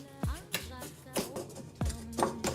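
Butter and sugar worked together by hand in a bowl for cinnamon bun dough, giving a series of irregular close scraping and knocking strokes with soft rhythmic gaps between them.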